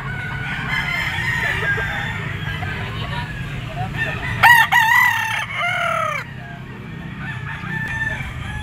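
A rooster crows loudly and close at a busy pet market where roosters are sold, one clear drawn-out crow rising above a background of murmuring people and other fowl clucking, with someone talking throughout.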